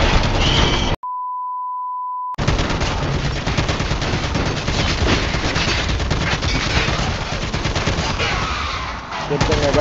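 Heavy automatic gunfire from a big gun in Call of Duty Mobile zombies mode, loud dense bursts filling the scene after a short steady beep tone near the start, continuing almost without pause.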